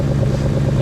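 A healthy 2003 Mustang Mach 1 engine idles up close, a steady low rumble throughout with no voices over it.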